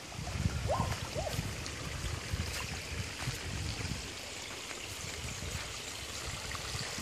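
Water running down a road outside, a steady broadband rush of flowing stream water that stays loud and continuous throughout, with a few brief higher splashy accents near the start.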